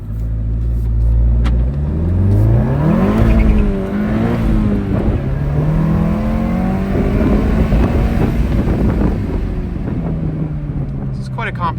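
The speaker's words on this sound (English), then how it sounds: "Let's do a little peel." A stage 3 modded VW MK7.5 GTI with an IS38 turbo accelerates hard through the gears, its loud engine note rising in pitch, dropping at each shift and climbing again, heard from inside the cabin with some talk.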